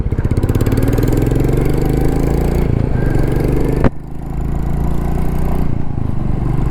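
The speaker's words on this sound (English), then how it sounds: "It does sounds like the normal Classic 350, but a little bit of grunty exhaust sound." A Royal Enfield Classic 350 motorcycle idles with a steady, loud thump and a slightly grunty aftermarket-style exhaust note, holding continuously with a brief blip near the middle, no voices present.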